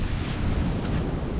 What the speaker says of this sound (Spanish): acá tenemos la playa